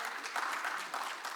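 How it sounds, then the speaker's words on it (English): Audience applause at a wellness and healthcare business event in Dubai: a soft, steady patter of many hands clapping at a distance, fairly quiet and even throughout the short burst. "Please give them a round of applause."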